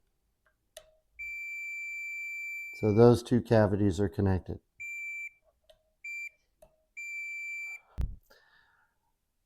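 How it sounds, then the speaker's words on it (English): A continuity tester checking guitar shielding gives steady high electronic beeps: one long tone, then several short and longer beeps with gaps, and someone speaking briefly in the middle. "So we're going to turn this so if it makes a beep,"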